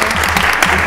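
Applause from the audience at a Mobile, Alabama city council meeting, honoring student council members; a dense, steady patter of clapping fills the brief stretch, with a faint low murmur or voice beneath.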